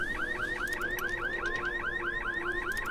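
Car alarm in the video game Dying Light, sounding a fast, steady repeating electronic whoop that cycles evenly and loudly throughout, with no talk over it.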